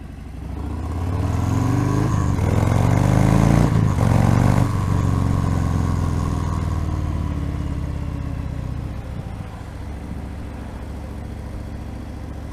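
A Harley-Davidson Fat Bob 114 motorcycle rides on wet roads, its engine a loud, steady low rumble that swells as it pulls away and then holds a constant drone with road and wind noise underneath.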